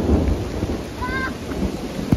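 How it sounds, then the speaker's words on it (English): Heavy rain pours down during a thunderstorm in riverbank woods, a dense steady hiss with low rumbling thunder and a sharp crack near the end. "We are getting poured on right now. Lightning is everywhere"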